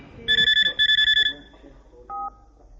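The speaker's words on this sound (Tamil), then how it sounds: "ஒரு நிமிஷம் சந்திருக்கு ஃபோன் பண்ணிட்டு வந்துறேன்" Telephone ringing in a Tamil comedy scene, two loud bursts of electronic ring tones followed by a shorter lower tone, with faint background noise.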